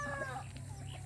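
Small, very cute hen, freshly bathed on a hot summer day, clucking in short soft bursts over a steady low hum, with a little background voice.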